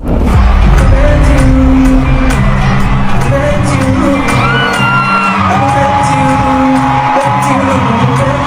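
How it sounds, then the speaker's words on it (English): Music at a concert, heard as a loud, dense mix of instruments and sustained tones blended with crowd whoops, shouts and cheering throughout. "this is some nice music"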